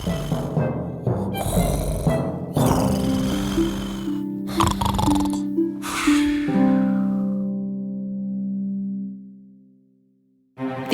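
A narrator's voice imitates snoring in a bedtime fairy tale about a young man pretending to sleep, with breathy snorts at first, then long droning hums that fade into near silence before a short burst at the end.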